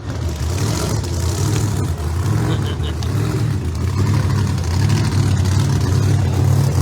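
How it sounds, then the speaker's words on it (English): Top sportsman drag racing cars roar past at a drag strip, a loud continuous engine drone that holds steady and swells slightly toward the end. "The top sportsman cars are coming up."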